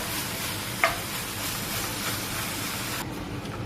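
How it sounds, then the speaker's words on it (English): Beef mince browning in a pan with onions, a steady close sizzle and crackle with one brief sharp tap partway through, no talking. "Here's the mince in the pan, just browning up."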